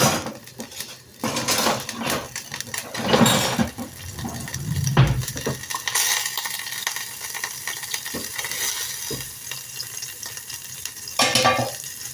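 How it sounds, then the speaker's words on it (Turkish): Butter melting in a pan on the stove, a sizzle mixed with scraping, stirring and clattering utensil and pan knocks in irregular bursts, no voices. "Şu anda tereyağımızı eritelim."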